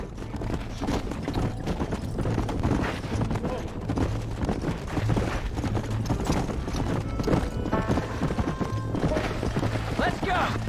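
Horse hooves clip-clop steadily at a riding pace in the Western video game Red Dead Redemption, a continuous rhythmic trot under bursts of in-game dialogue and faint background music.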